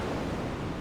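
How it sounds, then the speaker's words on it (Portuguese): An ocean waves sound preset played on an Arturia MiniLab 3 keyboard controller gives a steady, dense wash of surf-like noise, continuous and fairly soft with no talking. "Não, é só o som do mar."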